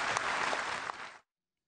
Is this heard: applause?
yes